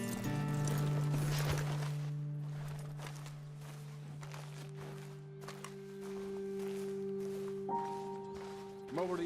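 Horses in Red Dead Redemption 2, slow hoof clops and footsteps at a walking pace, fairly quiet beneath sustained game music tones.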